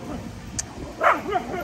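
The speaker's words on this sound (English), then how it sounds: "Got a little bit of a puppy stampede going on here." Puppies scamper around indoors with a quick yip and a few short, near barks and whimpers, mixed with a voice and a thin room hum in a brief burst.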